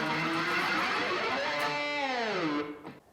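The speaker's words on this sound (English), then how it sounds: "Now, the right hand is going to do a pick scrape." Electric guitar pick scrape played with the side of the pick through effects, a loud, dense grinding rasp that sweeps downward in pitch over a few seconds and then cuts off abruptly.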